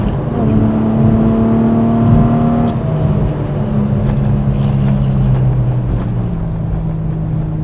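A Porsche 911 drives along a bumpy road with a steady, loud engine drone and rumbling road and wind noise. The engine note shifts pitch partway through, as with a gear change.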